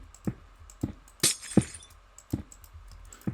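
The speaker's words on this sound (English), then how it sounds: "then we're going to place some glass around it" Glass blocks being placed one after another in Minecraft, producing a series of sharp, evenly spaced glassy clinks and cracks, about seven hits, with one brighter shattering chink in the middle.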